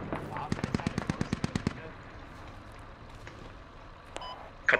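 Automatic gunfire in the tactical shooter game Squad, played on the Chora map: a rapid burst of about a dozen sharp shots in steady rhythm, then quieter scattered distant shots and a couple of late loud cracks.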